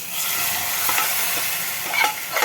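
Hot tadka tempering poured into cooked dal sets off a steady, hissing sizzle that holds evenly for a couple of seconds, with a slight flare near the end and no talking.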